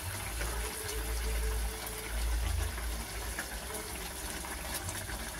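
Fish curry with bori bubbling at a steady boil in a pot, a continuous close watery churn with low rumbling, no voices over it.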